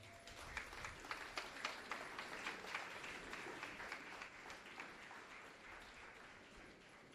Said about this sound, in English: with a resounding, thunderous applause, make welcome to this podium Mr.